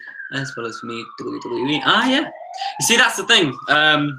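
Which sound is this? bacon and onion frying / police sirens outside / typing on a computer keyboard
police sirens outside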